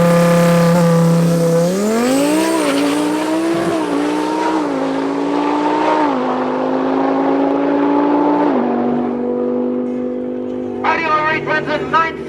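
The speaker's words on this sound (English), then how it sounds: "Up next, we got the super fast R8 from Zambia." An Audi R8 launches hard down a drag strip at a regional race meeting, its engine note climbing loudly through successive gear changes with tire noise, then fading as it pulls away, with faint crowd noise at the end.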